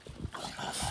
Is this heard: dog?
yes